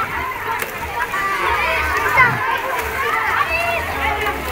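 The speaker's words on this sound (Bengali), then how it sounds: "এখন তারা সুইমিং করতেছে।" Children from a madrasa swimming in a pool, with constant splashing and sloshing water mixed with lively kid voices and chatter throughout.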